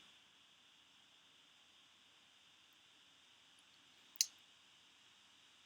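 A single sharp computer mouse click, isolated and fairly close, over a faint steady hiss.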